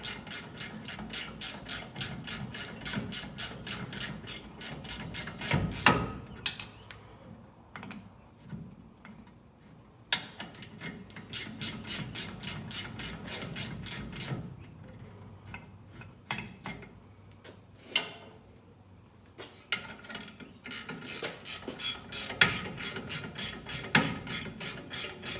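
Hand ratchet clicking in fast repeated bursts as two 18mm brake caliper bolts are loosened on the rear of a Chevrolet Silverado/GMC Sierra/Tahoe/Yukon, close and fairly loud, with pauses between runs and no talk.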